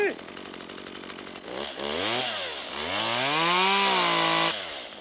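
A chainsaw makes a step cut into a pine tree, idling unevenly at first and then revving loud and close with rising and falling pitch as the chain bites into the wood.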